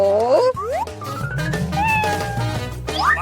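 A cat meows repeatedly in rising, wavering cries, close and clear, over a busy background of voices and other sounds.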